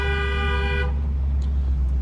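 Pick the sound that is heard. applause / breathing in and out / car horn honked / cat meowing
car horn honked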